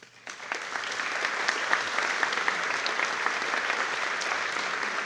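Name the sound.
audience applause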